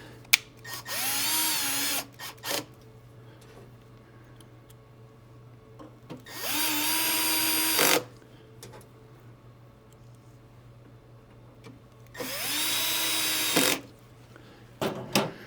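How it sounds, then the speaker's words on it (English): A power drill on a low torque setting drives screws back into an APC Smart-UPS SMX2000LV battery unit, running in three short whirring bursts that rise in pitch, separated by quiet pauses. "I'm going on a really low torque setting and putting the screws back in."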